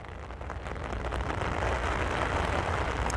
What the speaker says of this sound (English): We're gonna watch it in the rain.